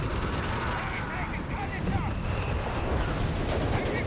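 Dense, continuous machine gun fire and explosions rumble without a break in the Company of Heroes 3 strategy game, a loud wall of battle noise with commentary voices partly under it.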